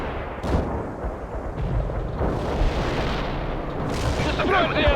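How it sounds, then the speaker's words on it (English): Artillery strike explosions in the battlefield game World in Conflict boom in a continuous dense rumble, with broadband bursts and gunfire layered over a steady low roar, loud and close throughout. "Artillery strike is inbound. Avoid the strike area."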